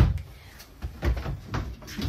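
A dresser drawer inside an RV is worked open, producing a few soft wooden knocks and sliding scrapes in quick succession, close and fairly quiet, with no talk.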